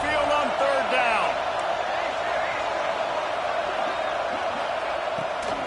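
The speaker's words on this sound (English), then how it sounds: "The Tide crowd rolling noise down onto Saban Field on 3rd down." Alabama Crimson Tide football crowd at Saban Field on third down, a loud, steady roar that fills the whole clip, with voices briefly audible near the start.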